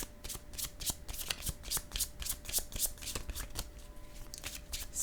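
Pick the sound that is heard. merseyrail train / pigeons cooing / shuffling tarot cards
shuffling tarot cards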